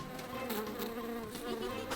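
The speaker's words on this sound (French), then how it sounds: "Scout pense qu'il devrait y avoir une abeille sympathique dans l'histoire." A cartoon bee buzzes in a steady, close, continuous drone with slight wavering pitch and no talk.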